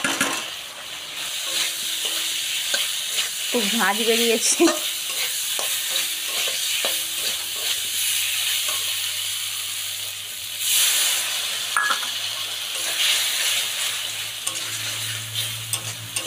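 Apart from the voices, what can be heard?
frying roasted moong dal with potatoes in oil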